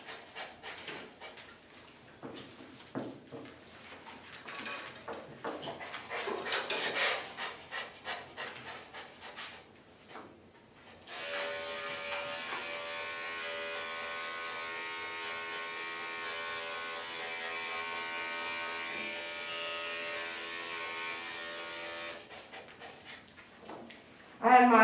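A Bravura electric clipper buzzes steadily for several seconds while grooming a Havanese dog, preceded by the dog's quick rhythmic panting and shuffling, all fairly faint and close.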